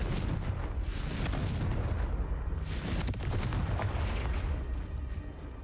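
A Confringo fire spell exploding in Hogwarts Legacy, with heavy booming blasts and crackling bursts, loud and dense, a few distinct bangs standing out against continuous rumbling combat noise.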